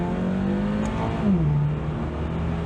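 A 2023 Subaru BRZ accelerates hard, its engine note climbing steadily, dipping briefly at a gear change, then rising again. The sound is loud and close, heard from inside the car.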